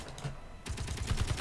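Turret firing back in the video game Space Engineers, a rapid burst of automatic gunfire shots, fairly faint, following a brief quieter stretch.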